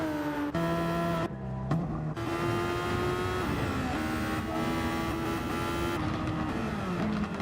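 Turbocharged Honda race car engine in Gran Turismo 7 droning at high revs, its pitch shifting with gear changes, a steady whine under a continuous tonal hum.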